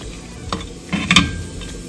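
Food frying in coconut oil for a crab theeyal is stirred in a pan, with a few distinct scraping strokes over a low, steady sizzle, close and moderately loud with no talking.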